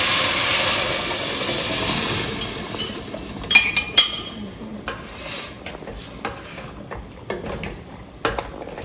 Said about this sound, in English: now I'm going to integrate the sauce to it